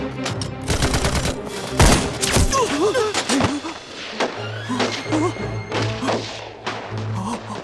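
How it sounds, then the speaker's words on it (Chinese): Gunfire in a drama scene set in a forest, with sharp shots and heavy thuds in irregular bursts mixed with shouted voices and a low background tone. "你瞄准敌人的位置开枪，快去！"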